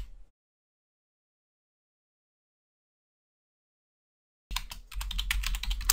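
Silence for several seconds, then a burst of rapid keyboard typing begins, close and fairly loud, with quick irregular key clicks.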